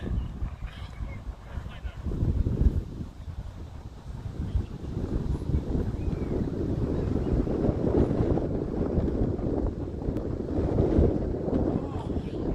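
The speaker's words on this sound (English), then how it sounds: "And the wind's picking up a bit" Strong wind buffets a microphone outdoors at a cricket match on a turf pitch in Canberra. A heavy, continuous low rumble fills the whole stretch, swelling and easing in gusts, with no clear talk.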